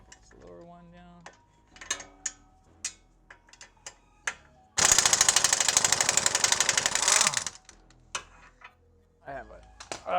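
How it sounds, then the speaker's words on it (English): A pneumatic impact wrench, run off a compressor set low, hammers at coilover bolts on a Hyundai Veloster in a loud rapid burst of about two and a half seconds, with clicks and handling noises before and after. "we're gonna use our impact again to get that"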